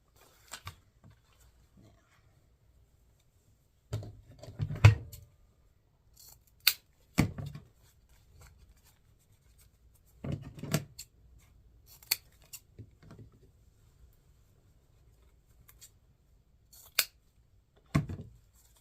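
Scissors cut ribbon on a mesh wreath, producing quiet, close, scattered snips and rustles separated by stretches of near silence.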